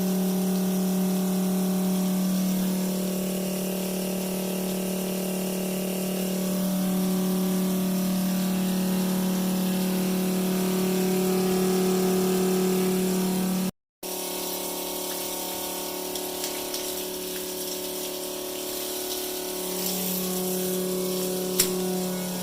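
Pump on a softwash trailer metering system running steadily: a constant droning hum with a strong low tone and watery rushing on top. It cuts out briefly midway, then resumes at the same even level.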